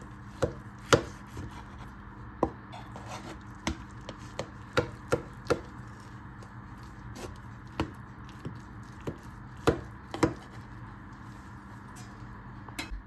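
A knife cuts through baked lasagna in a pan, sharp scattered taps and soft squishing contacts against a quiet background, close and fairly faint.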